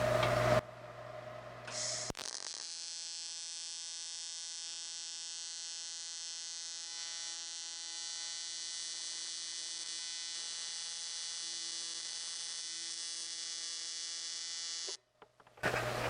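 TIG welder tacking a slightly warped metal panel, a steady electrical buzz with a high tonal hum that holds for about thirteen seconds after a brief start, then cuts off; close and continuous, no talking.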